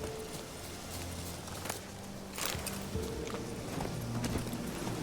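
Roach the horse's hooves clip-clop at a steady walking pace in a video game, close and clear over ambient game background, with no talking.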